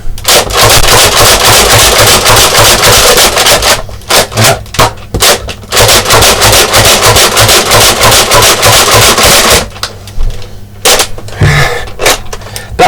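A Nerf Rampage blaster with its drum magazine is slam-fired in a fast, loud, continuous burst of mechanical clacks and whooshing shots, broken by a few brief pauses and ending with a jam.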